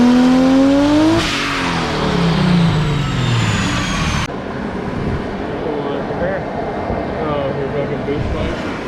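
A 1700hp RB25-powered Nissan S13 240SX screams through a dyno pull, the engine revving hard and rising in pitch before cutting off abruptly partway through, leaving roaring rumble and loud mechanical noise behind.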